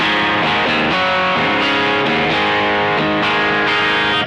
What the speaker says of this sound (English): the distortion is more hard clipping